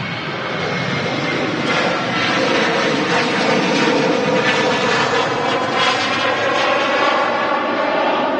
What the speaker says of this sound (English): And this Jet 2 on the roll out to Rhodes.